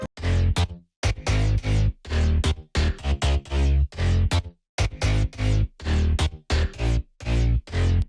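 A punchy future house synth bass line plays alone in short rhythmic bursts, leaping in octave jumps between low and high notes with brief gaps between phrases.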